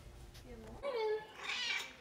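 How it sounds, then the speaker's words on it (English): A small alley cat meows close by in two drawn-out, rising calls, the second higher and more strained, in a quiet morning home. "My little alley cat following me around,"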